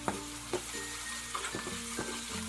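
A spoon stirs salt and spices for a white lime pickle through hot oil in a pan, a few scraping strokes over a low sizzle and a steady background hum, with no voices.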